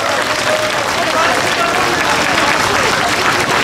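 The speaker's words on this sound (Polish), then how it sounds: "Jeszcze raz wielkie brawa dla nich poproszę." Outdoor crowd at a Children's Day event on a town market square applauds its youngest performers, a loud, steady wash of clapping and cheering that fills the whole stretch, with voices mixed into the noise.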